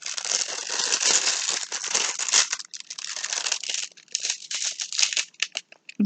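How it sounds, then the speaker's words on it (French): Plastic wrapping crinkles and tears as it is pulled off a package of Christmas diamond-painting kits, a close, continuous rustling with brief pauses and sharper snaps toward the end. "J'ai enlevé le plastique."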